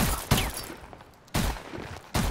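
Bursts of gunfire from Call of Duty Advanced Warfare in an infected game mode, coming as three loud, evenly spaced volleys with quieter gaps between them.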